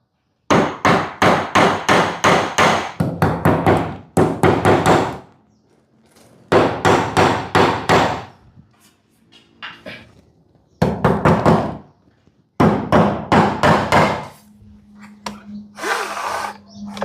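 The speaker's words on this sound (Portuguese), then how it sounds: "Estiquei a linha, vou bater os preguinhos de apoio" Small support nails hammered into wood while a carpenter installs a wooden ceiling lining: sharp, loud, rapid hammer strikes in several quick bursts separated by quiet gaps, with a steady low hum near the end.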